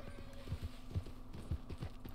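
Horse hooves clip-clop in Red Dead Online, a steady run of soft, close thuds at a relaxed walking pace over a low background hum.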